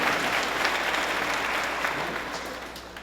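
Audience applause at a public ceremony for the completion of the Strong Museum of Play, a dense, steady wash of many hands clapping that fades slightly toward the end.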